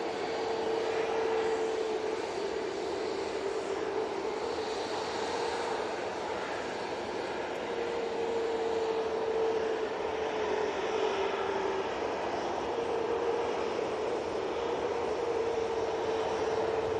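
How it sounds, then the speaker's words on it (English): EasyJet airliner arriving from Belfast at Manchester Airport, a steady moderate jet engine drone with a faint wavering tone, heard at a distance and continuing throughout. "Next in, we have the EasyJet from Belfast"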